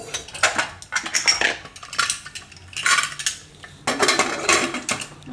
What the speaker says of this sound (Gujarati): તો આને આપણે હવે કુકરનો ઢાંકણું બંધ કરી દેવું